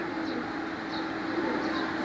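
Soft, low cooing from a rooftop pigeon loft holding imported birds, a steady murmuring coo under a faint background hum, close and continuous.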